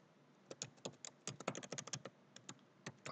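Someone types C# code on a computer keyboard, irregular bursts of crisp key clicks close up with brief pauses between, no talking.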